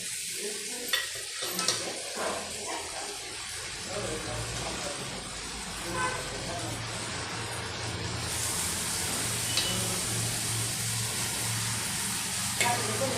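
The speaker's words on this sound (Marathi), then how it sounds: "ते छान मसाल्यात परतून घ्यायचं" Mutton pieces sizzle loudly as they fry and are stirred in masala in a pan, a dense continuous hiss with scraping stirs, while a voice talks over the cooking.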